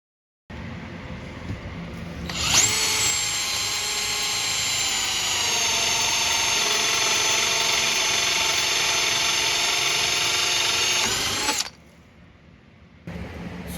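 A hole saw bores through wood in a woodworking shop, a loud steady whine with strong harmonic tones lasting about nine seconds, starting and stopping abruptly, with quieter shop noise before and after.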